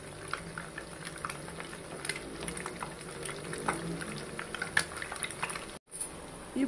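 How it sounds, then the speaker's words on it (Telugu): Onions frying in oil in a pan for egg fried rice, a steady bubbling crackle with scattered sharp pops, close and moderately loud, with a brief dropout near the end and no talking. "ఇప్పుడు ఆనియన్ వేసుకుందామండి కొంచెం ఫ్రై అవనిద్దామండి"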